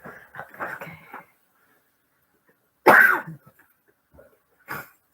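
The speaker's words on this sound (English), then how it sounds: "I keep coughing." A few muffled vocal sounds, then a loud close cough after a pause, and a shorter cough a couple of seconds later.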